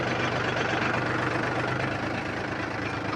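A tractor engine runs steadily in a field, a loud, continuous low rumble with a knocking idle texture, close by and with no voices.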